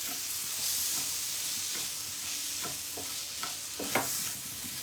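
A paneer mixture with ginger and garlic paste is stirred in a pan for paneer lollipops: soft, repeated scraping strokes over a faint, continuous hiss.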